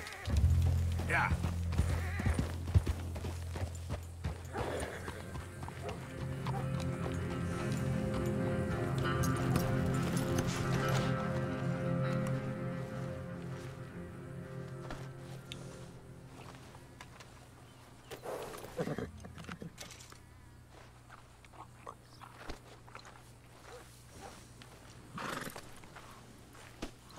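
A horse in the video game Red Dead Redemption 2 neighs and whinnies, with hooves clip-clopping at a walk and then a run, loud at first and fading later, while a person talks over parts of it.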